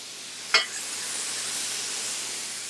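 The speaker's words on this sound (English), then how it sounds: "At this point, I'm going to add in some butter." Butter hitting a hot pan for a Thanksgiving gravy roux gives one sharp spit, then settles into a steady, soft, even sizzle close by with no voices.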